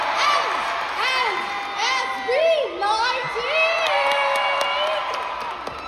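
A large crowd screams and cheers at a Filipino music awards show with sustained, high-pitched shrieking and whoops, and a voice shouts a group's name over the roar.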